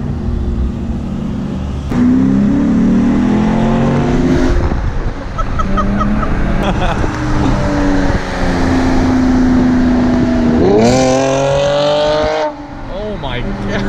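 Widebody Ford Fiesta ST accelerating hard from the cabin, engine revving up through several rising sweeps with a gear change near the end, loud and close, with voices talking over the engine.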